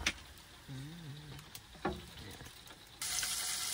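Breakfast cooks in a kitchen pan, a quiet steady sizzle with a few clinks and stirs and a short hum, and the frying swells louder near the end.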